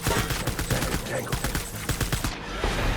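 Rapid bursts of automatic gunfire rattle without pause in the video game Death Stranding, a dense, loud fusillade of overlapping shots with a voice briefly heard beneath it.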